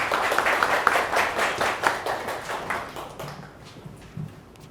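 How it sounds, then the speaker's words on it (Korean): Audience applause welcoming a speaker at an NFT seminar, moderately loud, then thinning out and tapering off in the final second. "큰 박수로 모셔보겠습니다"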